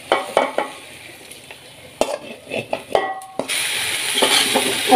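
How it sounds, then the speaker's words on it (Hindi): Rice frying with chicken for biryani over a medium flame, stirred by hand with scraping strokes against the pot, a steady sizzle building toward the end, no talking. "मीडियम फ्लेम में इसको अच्छे से हम लोग भून लेते हैं चावल को"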